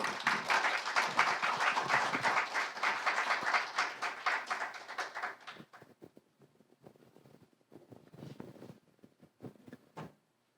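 Indoor audience at a foundation celebration giving a round of applause to welcome a violinist, dense clapping for about five seconds that thins into scattered claps and fades out.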